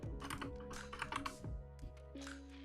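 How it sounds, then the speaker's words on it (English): A computer keyboard clatters under quick typing, with a run of close, crisp key clicks in uneven bursts. The typing thins near the end. "I can't type on this keyboard."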